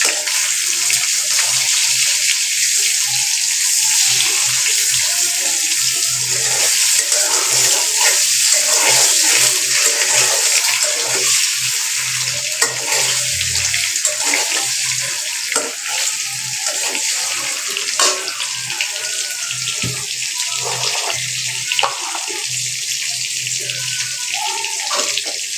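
Eggs frying lightly in a pan for egg rezala give off a loud, continuous hissing sizzle that holds steady from start to finish, with no talking.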